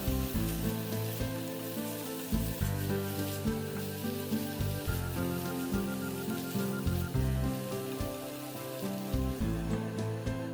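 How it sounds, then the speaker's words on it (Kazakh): Chicken pieces and finely chopped onion fry slowly in a pan, giving a steady, dense sizzle with soft crackles and occasional stirring, close and continuous with no talking. "Тауық еттері қуырылып болған соң ұсақтап туралған пияз салып, пияз жұмсарғанша және сарғайғанша асықпай қуырамыз."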